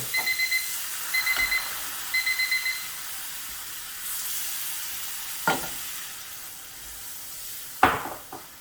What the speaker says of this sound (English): Now I'm going to add some broth, slowly, and just keep stirring.